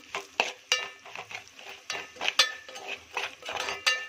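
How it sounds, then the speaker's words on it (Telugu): Bombay rava semolina, with cashews, is stirred and fried in a pan for raw mango halwa, a metal spoon scraping and clinking in a steady, quick rhythm of close strokes over a soft sizzle. "సో దీన్ని కూడా చక్కగా ఫ్రై చేసేసుకుందాం"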